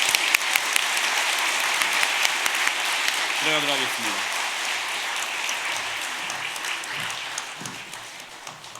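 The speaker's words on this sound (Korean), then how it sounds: "인사할 때 큰 박수로 격려하겠습니다" A church congregation applauds with broad, steady clapping through an ordination ceremony for elders, deacons and deaconesses, while someone speaks briefly over the applause in the middle.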